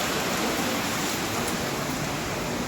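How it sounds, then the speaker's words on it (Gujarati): A heavy morning downpour gives a dense, constant wash of rain noise that stays loud and unbroken throughout. "ચલો વરસાદ પણ જુઓ"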